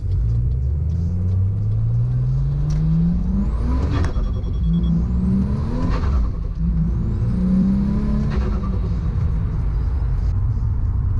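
A Ford F6 Typhoon with upgraded diff bushes and coilovers drives along the road, its engine rumbling steadily under road noise and swelling in repeated revs as it accelerates through the gears.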